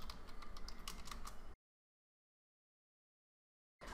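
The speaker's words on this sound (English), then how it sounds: "Of course, I have to type the password again." Keys tapped on a computer keyboard while a password is entered at a Linux terminal prompt, a brief run of close, rapid clicks that stops abruptly into silence.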